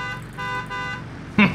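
Vehicle horn honking in the factory game Satisfactory, two short loud toots at the end following a sustained tonal hum of machinery or music.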